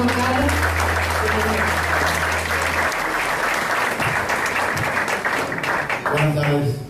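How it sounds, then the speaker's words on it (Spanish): Steady applause from an audience at an insurance update conference in Spanish, dense clapping filling the hall for several seconds with a low hum beneath and some voices mixed in. "Un fuerte aplauso, por favor."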